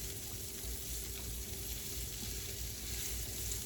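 Onions sautéing in a pan before hamburgers go in, a steady close sizzle and crackle with faint watery hiss, continuous and even throughout with no talking.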